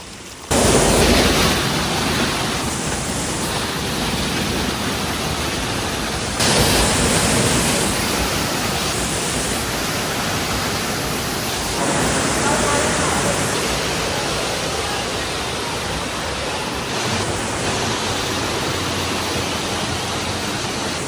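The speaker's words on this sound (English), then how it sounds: "So this is a water fountain." A water fountain flowing in Sinaia, Romania, gives a loud, steady rush of splashing water. It sounds close and continuous, with slight surges in volume.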